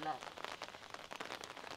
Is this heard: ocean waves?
no